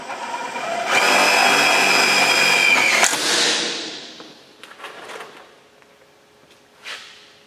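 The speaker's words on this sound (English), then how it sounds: "Grab your drill with the small self-drillers provided." A power drill whines at high speed for about two seconds while driving a small self-drilling screw into a wooden glider bench frame, then stops with a short clunk, followed by faint handling knocks and taps.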